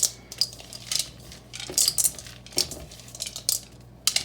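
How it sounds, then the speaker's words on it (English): Chocolate chips being stirred into cookie dough for one large chocolate chip cookie, giving a run of close, irregular clicks and scrapes with bright tapping hits, like chips and a utensil knocking against a bowl, with no talking. "I'm just gonna go in with this amount and just get it stirred all in, mix it in"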